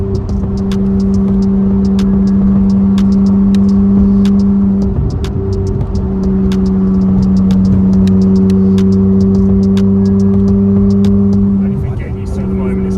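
A tuned widebody Porsche Cayman heard from inside while driving, a steady loud engine drone and road roar with a sustained hum, a brief dip in pitch as the car shifts, and occasional ticks from the cabin.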